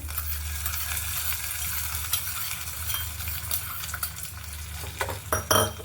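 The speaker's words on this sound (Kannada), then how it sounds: "ಈಗ ಚಟ್ನಿಗೆ ಒಗ್ಗರಣೆನ ಹಾಕ್ಕೊಳ್ತೀನಿ." Steady crackling sizzle of tempering spices and dried red chili hitting hot oil for coconut chutney, with a low hum underneath and a few metallic clinks near the end.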